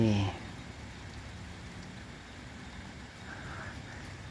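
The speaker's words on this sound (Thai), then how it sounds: "ฝนก็ตก" Rain falling at night in Bangkok, a steady hiss of drops spread evenly across the clip, with a brief louder knock at the very start and faint vehicle rumble beneath.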